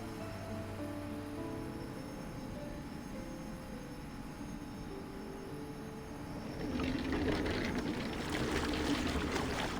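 Underwater ambience in the Reverse: 1999 video game: a low watery drone with soft tonal hums that swells into a fuller rushing, bubbling wash in the final seconds, with no talking.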